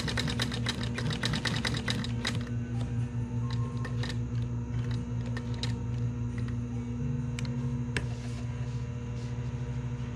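A sewing machine stitches a handlebar pad, its needle chattering in fast bursts over a steady motor hum, close and loud, with brief pauses and a few sharp clicks and no voices.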